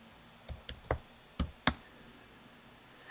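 A handful of quick, separate keystrokes on a computer keyboard as a file name is entered, soft clicks spaced irregularly against a quiet room.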